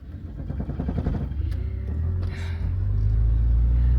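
A Mercedes car engine rumbles low and close. Uneven chugging at the start gives way to a steadier, louder idle drone, with no voices over it.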